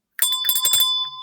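A bell rung as a sound effect, a quick bright metallic ding-ding with several rapid strikes and a ringing tone that lingers, heard alone.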